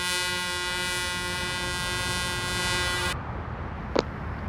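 A MAN truck's horn in Euro Truck Simulator 2 blares as one loud sustained chord for about three seconds, then cuts off abruptly into quiet engine idle.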